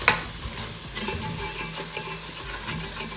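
Vegan eggplant and eddoes curry sizzling in a pot while a spoon scrapes and stirs it, close and fairly loud, with repeated scraping strokes over a steady frying hiss and no voices.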